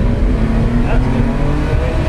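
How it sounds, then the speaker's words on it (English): A car's engine roars steadily as its wheels spin while hydroplaning through a puddle, a loud, continuous droning rumble close to the car with no break, during a drift session with an Audi S3 and BMW E30. "That's just it spinning on hydroplane."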